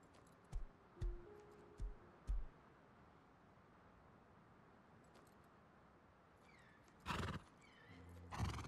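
A fast video-game horse clip-clops with a few hoof thuds, then gives a loud neighing whinny and snorts, all set against a steady low ambient hiss.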